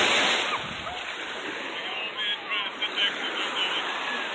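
Ocean surf on a warm Cape Cod beach at night, a broad washing hiss of a wave breaking and sloshing in, with brief voices and exclamations over it.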